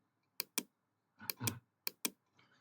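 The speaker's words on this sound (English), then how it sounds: "Here in run dialog box, type services.msc." Keys clack on a computer keyboard in short bursts, about six distinct close taps in pairs and small clusters against a quiet background.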